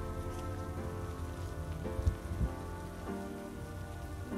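Steady rain falls at a hilltop viewpoint in Hiroshima, Japan, a soft, continuous patter on surfaces with a couple of louder drops near the middle, no voices present.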